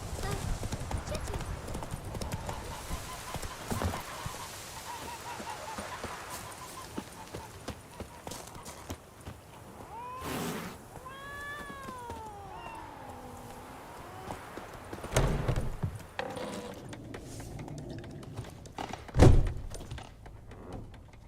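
Galloping horse Roach in The Witcher 3: Wild Hunt, a steady rhythmic clip-clop of hooves running throughout, with game music, a brief whinny-like tone and occasional voices over it.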